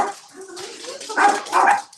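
Dogs barking in a room during a reptile-keeping show, a few short yapping barks in two bursts near the end, close and moderately loud, with a faint voice earlier.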